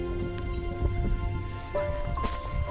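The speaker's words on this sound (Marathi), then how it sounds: "रिमझिम रिमझिम पाऊस पडतोय बारीक बारीक" Light drizzle falls on a farm field in the Konkan, a soft, steady pattering of raindrops over a low hum, with no voices.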